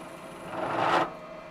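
A milling machine cuts metal at 450 RPM, feeding down three quarters of an inch: a brief rising whirring grind that swells for about a second, then drops back to a steady machine hum.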